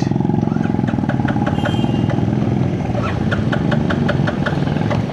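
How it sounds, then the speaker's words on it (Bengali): A Royal Enfield Classic 350 motorcycle engine runs steadily at idle nearby, a loud continuous thumping drone, with a faint repeating beep over it. "আমার বাইক স্টার্ট হচ্ছিল না"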